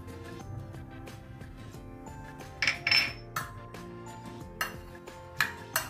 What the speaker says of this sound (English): So now we are going to add lemon juice inside. Mix it nicely.